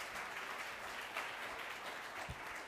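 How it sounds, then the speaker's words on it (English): Audience applause at a Sydney Marathon media call, a steady wash of many hands clapping at moderate volume throughout, with no voices over it. "A round of applause, please."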